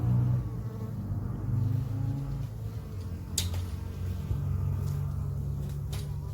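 Honey bees swarm over a piece of ripe breadfruit, a steady close buzzing hum layered with a low background rumble, with a few sharp brief noises near the middle and end.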